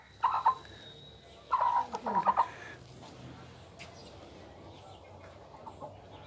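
An Aseel hen of an old, pure bloodline gives a few short clucking calls in two bursts early on, fairly close, then low yard ambience with no speech.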